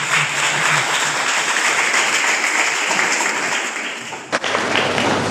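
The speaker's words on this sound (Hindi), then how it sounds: "ताली बजा देते हैं" An audience at a talk breaks into applause, a dense sustained wash of clapping from many hands that cuts off abruptly near the end, followed by quieter room noise.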